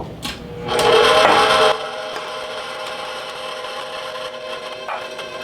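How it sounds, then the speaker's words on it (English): A stand mixer runs steadily while dry cookie ingredients for keto chocolate chip cookie dough are added, with a louder scraping, grinding burst near the start before it settles into an even whirring hum. "we're going to slowly add it to the mixer as it's going"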